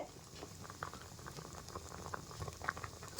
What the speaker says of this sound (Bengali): দেখুন বন্ধুরা দুধটা কিন্তু ফুটতে শুরু করে দিয়েছে